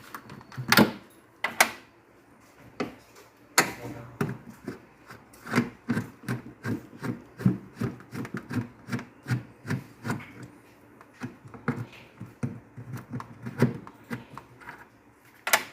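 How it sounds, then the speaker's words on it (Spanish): Screws and the bottom panel come off a Mabe refrigerator that cools poorly, with close, repeated scraping, rubbing and sharp clattering knocks in an uneven rhythm and no talking. "vamos a quitar lo que son los dos tornillos que tienen las esquinas para poder quitar el fondo"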